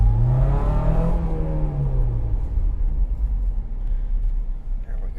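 Small Honda S2000 sports car accelerating, a steady engine drone that rises in pitch during the first two seconds, then settles into a low rumble with road noise. A person talks over it.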